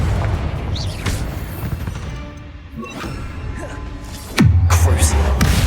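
Confringo blasting spells fire in Hogwarts Legacy, with sharp cracks and booms through busy combat and a heavy crash near the end that leaves a low rumbling tail.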